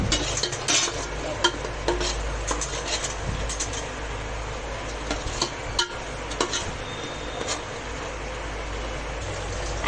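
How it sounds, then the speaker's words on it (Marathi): A spoon stirs salt through a pot of village-style chicken curry, scraping and clinking repeatedly over a low, constant sizzle and background hum. "त्यामध्ये 1 चम्मच मीठ टाकून आपण व्यवस्थित मिक्स करून घेणार आहोत."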